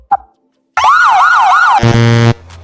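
A synthetic siren wails in a few rising-and-falling sweeps, then switches to a harsh, buzzing horn-like tone before cutting off, loud and close.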